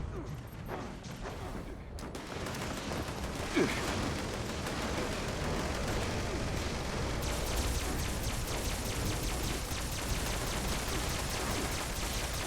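A Fallout 76 battle plays out as dense continuous gunfire and combat noise, with a sharp grenade blast about a third of the way through, all loud and unbroken.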